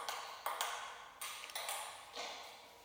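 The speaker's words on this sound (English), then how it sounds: "table tennis, what's this one?" Table tennis ball knocking on a paddle and table: about seven sharp, bright clicks in a loose irregular rally rhythm. They sound close and clean, with no voices.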